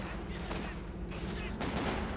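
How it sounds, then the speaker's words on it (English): Faint machine gun fire in the Company of Heroes 2 battle, a sustained low rattle of rapid shots buried under a noisy mix of other game sounds and commentary. "Sturmpanzer continues moving ahead, the machine gun firing away."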